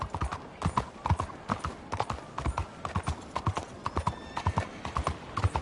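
Horse hooves clip-clop in a steady, quick rhythm on a hard surface, close and clear, with no voices, in the video game Red Dead Redemption 2.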